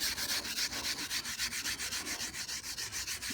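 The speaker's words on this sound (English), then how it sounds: "now the steel brush" A steel wire brush scrubs rust off a car body panel for a DIY rust repair, roughing up the metal before painting, in steady rapid back-and-forth strokes with a bright, close, rasping scratch.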